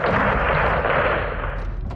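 Aircraft guns fire in Call of Duty Modern Warfare 2, a dense, loud, sustained roar of rapid gunfire that holds steady for about two seconds with no voices over it.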